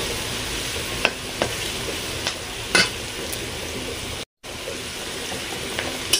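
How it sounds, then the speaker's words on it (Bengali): Ivy gourd (kundru) frying in oil with salt and turmeric, giving a steady close sizzle with a few sharp clicks and taps of stirring scattered through and one brief dropout. "পরিমাণ মতো লবণ, পরিমাণ মতো হলুদ, দিয়ে ভালো করে লাল লাল করে ভেজে নেব"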